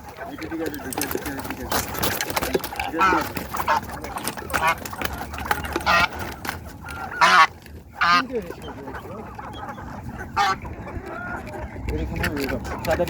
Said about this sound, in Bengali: এই যে আমাদের রাজহাসের ধরা চলছে